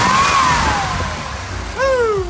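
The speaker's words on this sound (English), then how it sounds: "Pulling the oil cap while the engine's running reveals rhythmic puffs of smoke exiting the crankcase" Camaro 305 V8 running with the oil cap pulled, a steady loud engine drone close by with tonal whines sliding in pitch as it revs and settles.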